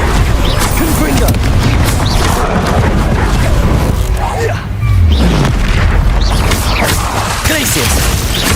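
Fiery Confringo spell blasts from Hogwarts Legacy gameplay, a run of loud booming explosions and bursts layered over dense game music and effects, with talking underneath throughout.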